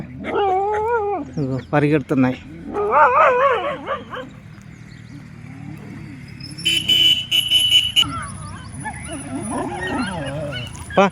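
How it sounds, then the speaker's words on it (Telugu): Dogs bark and yelp in sharp bursts, some near and some farther off, with whimpering and a whining howl, while a person talks over them and a vehicle horn sounds briefly in the middle. "అక్కడ ఉంది వేరే కుక్క"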